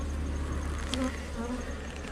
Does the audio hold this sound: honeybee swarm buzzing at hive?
yes